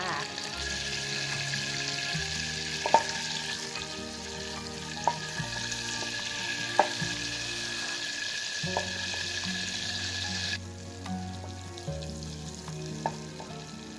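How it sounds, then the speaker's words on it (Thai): Butter boils and foams steadily in a pan while being browned for financier cakes, a continuous close sizzle with light bubbling crackle and a few sharp pops or stirring clicks. "เนยเริ่มเดือดแล้วนะคะ ต้มต่อไปเรื่อย ๆ นะคะ เนยจะยิ่งเดือดจะยิ่งเป็นฟองนะคะ"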